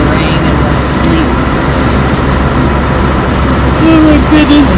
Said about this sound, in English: I think you can maybe hear the rain and the sleet.